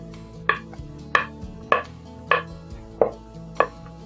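A knife chops mushrooms in half on a cutting board while a cream pasta sauce is being made: six sharp, evenly spaced knocks about half a second apart, close and clear, over a low steady background hum.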